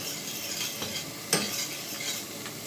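Minced garlic and onions fry in a pan, a soft, steady sizzle with faint stirring scrapes and one brief clink of a utensil against the pan.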